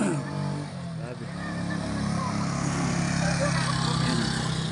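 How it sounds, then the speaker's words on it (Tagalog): Several motorcycles strain up a mountain road, engines droning and revving steadily under load with a continuous rough roar, and a voice is audible briefly near the start. "Grabe, hirap ng mga motor."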